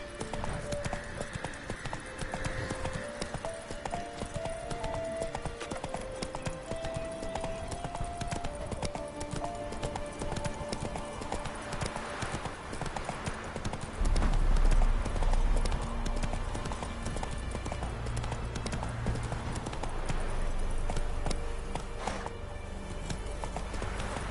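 Roach, a horse in a video game, gallops with steady rapid hoof clip-clops over game music and ambience, with a heavier low thump partway through and a faint voice briefly.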